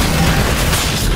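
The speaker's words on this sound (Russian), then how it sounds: "Он еще и взрывается, оказывается, под конец." A flamethrower-wielding enemy blows up in the shooter game Crysis 3, a dense, loud burst of booming, crackling noise that fills the whole moment with no pause.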